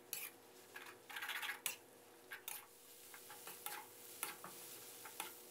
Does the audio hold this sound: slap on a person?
no